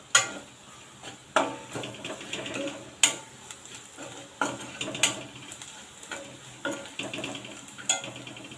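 Zunka mixture with coriander powder stirred in a pan: a spoon repeatedly scrapes and knocks against the metal, sharp clinks every second or so over a soft continuous sizzle, close and clear with no talking.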